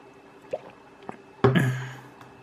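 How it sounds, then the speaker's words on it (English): A person drinks water with a few faint sips, then a louder wet gulp and swallow that fades over about a second, close to the microphone. "Sorry, drinking some water."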